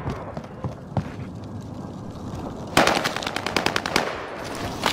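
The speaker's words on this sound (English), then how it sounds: "Taking fire!" Video game machine gun fire comes in rapid automatic bursts, first fainter and scattered, then a loud, dense close-range volley with sharp repeated cracks.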